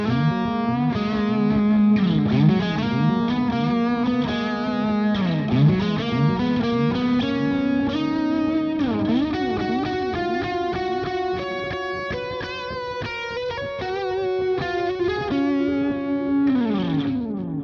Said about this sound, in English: That's a good sounding delay, actually.